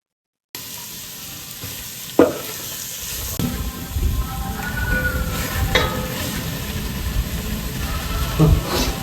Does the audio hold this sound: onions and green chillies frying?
yes